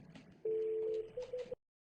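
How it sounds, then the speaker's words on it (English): A mobile phone on a Cisco CUCM Mobile Connect call gives one long electronic ring tone followed by three short pulses, then goes silent, with no talking. "Now it's ringing Hurley's mobile phone."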